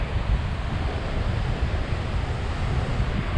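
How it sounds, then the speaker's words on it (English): Wind gusting on Tioman Island in Malaysia, a steady broad rush with low buffeting rumble against the microphone, loud and continuous with no pauses and no talk. "it's like the wind's trying its hardest to push all this smoke away"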